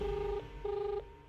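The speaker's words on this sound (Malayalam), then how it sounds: "ദേ, മാളുവിന്റെ ഫോൺ ഇപ്പോഴും റിങ് ചെയ്യുന്നുണ്ട്, പക്ഷെ എടുക്കുന്നില്ല." A mobile phone rings indoors with a steady electronic tone in two bursts, a short pause between them, fairly faint and with no voices over it.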